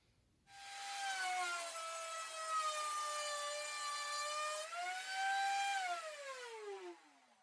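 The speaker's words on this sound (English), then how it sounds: "I'm going to need to put a rabbet on the inside edge on the router table" A router on a router table cuts a rabbet along the inside edge of a wooden case part, a steady loud whining whir that starts abruptly, holds its pitch, then rises briefly and winds down, with no talking.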